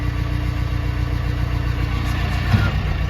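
A New Holland (Case) D95B bulldozer with rear rippers and a full cab idles with its engine running steady and close, a continuous low rumble with no talk over it.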